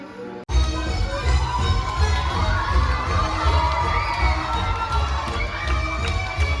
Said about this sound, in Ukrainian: як діти реагують на акторів, як вони їм вдячні, як вони плескають, як вони кричать, підтримують і аплодують в кінці вистави акторам